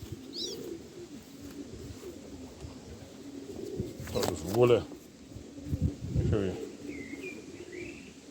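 Pigeons coo softly in the background, with a few brief chirps, while someone speaks nearby.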